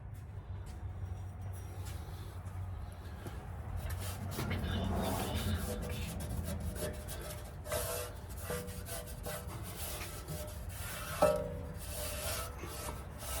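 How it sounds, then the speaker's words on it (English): Emery cloth rubs over ridged metal on a Ford Super Duty brake part during wheel bearing and parking brake work, a steady close scraping rasp with a brief louder knock near the end. "There is a little bit of ridges on here, so I'm gonna emery cloth all that."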